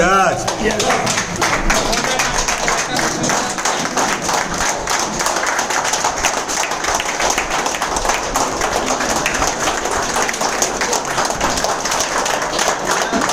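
An audience at a business gathering applauds to welcome a leader, brisk, crowded clapping sustained throughout, with voices and some thumps mixed in.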